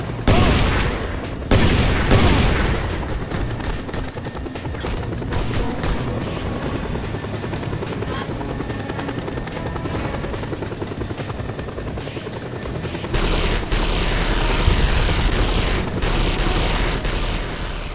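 A helicopter in the open-world action game Just Cause 2 drones steadily and loudly throughout, with bursts of gunfire and explosions cracking over the rotor noise.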